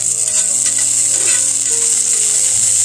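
Oil sizzles steadily in a frying pan while browned bits are scraped loose from the bottom, with a few soft scraping strokes over a continuous close hiss and no talking.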